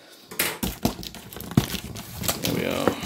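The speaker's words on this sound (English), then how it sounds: "Come on, scissors, do your magic." Scissors snipping and crinkling through the packaging of a Hello Fresh meal kit box, a close run of irregular cuts, rustles and crackles.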